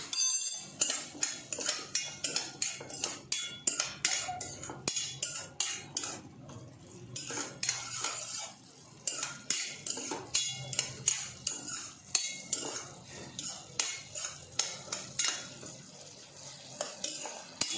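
Green chillies are fried in yogurt with red chilli powder and turmeric in a pan. A metal spoon scrapes and clinks against the pan in a steady stirring rhythm, close and fairly quiet, with a faint sizzle underneath.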